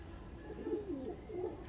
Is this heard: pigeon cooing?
yes